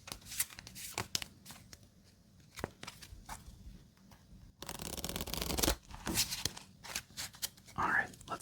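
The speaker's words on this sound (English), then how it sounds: "let's give it one more quick shuffle" Playing cards are shuffled up close for a FreeCell solitaire game, with soft riffling bursts and a longer rustling shuffle in the middle, along with quiet taps and a whispered voice.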